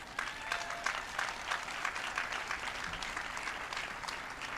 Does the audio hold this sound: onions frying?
no